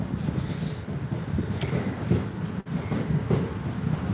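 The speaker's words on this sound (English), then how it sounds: "Oh, we got a train." A train rumbles steadily past on the railway, heavy low roar with wind buffeting on the microphone, loud and continuous throughout with no talking.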